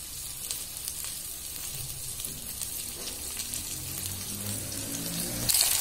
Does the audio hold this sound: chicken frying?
yes